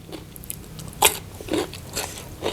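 Crispy fried pork sausage crunched and chewed up close, with several sharp bites and crackly crunches spaced irregularly over quiet mouth sounds.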